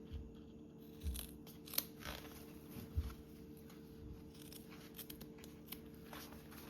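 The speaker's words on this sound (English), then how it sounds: "we're going to snip our seam allowance corners" Scissors snipping the seam allowance corners of sewn fabric, a few quiet, separate cuts at irregular intervals against a low steady background hum, close but faint.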